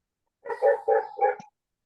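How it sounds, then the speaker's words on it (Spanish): A dog barks four times in quick succession through an open microphone, fairly close and distinct, with nothing else audible around it. "hay un micro ahí abierto con un perro de fondo."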